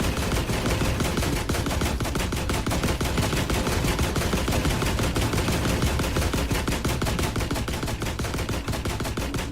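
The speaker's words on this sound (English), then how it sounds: "That thing's shooting at me, isn't it?" Rapid, continuous automatic gunfire from a hostile machine in the video game The Last Caretaker, a dense, loud rattle of shots that runs unbroken throughout with no talking.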